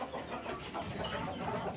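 A fighting rooster, recently back from a bout, clucks softly and close by over a constant noisy background.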